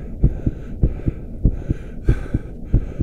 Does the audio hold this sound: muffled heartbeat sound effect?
yes